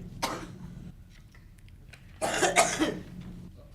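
Two bursts of coughing during a town board of finance meeting, a short one early and a heavier, longer fit a couple of seconds later, close by with quiet gaps between.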